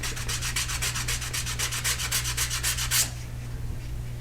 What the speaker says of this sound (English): So first I'm gonna go ahead and just go over it with the sandpaper, especially the parts that have multiple layers.